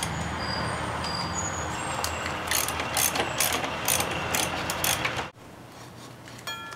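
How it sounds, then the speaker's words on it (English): A ratchet clicks rapidly as it backs out the brake caliper mounting bolts on a motorcycle, with close, repeated metallic pawl ticks in a steady run that stop abruptly. "the first step in this case is to remove the two mounting bolts that hold the caliper"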